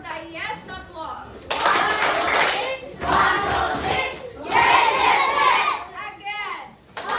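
A group of students in a classroom claps and cheers together in lively bursts of applause, with children's voices shouting over the clapping and a short pause between rounds.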